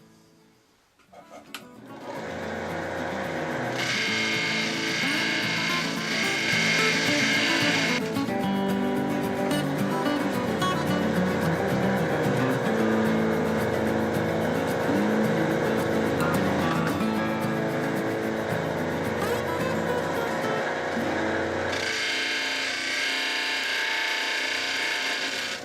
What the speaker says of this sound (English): The marble is spinning faster because it's smaller in relationship to the wheel where I'm grinding it.